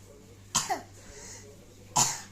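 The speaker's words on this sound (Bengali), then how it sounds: "তোমার কাশি পেয়েছে?" A small child coughs twice, about a second and a half apart, close by and sharp, with a quiet room around the coughs.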